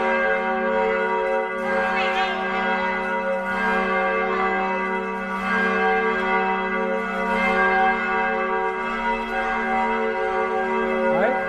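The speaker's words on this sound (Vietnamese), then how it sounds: "Nghe chuông rất là hay luôn." A church bell at a parish church tolls steadily with rich sustained ringing tones, strokes repeating roughly every two seconds, loud and close, with faint voices underneath.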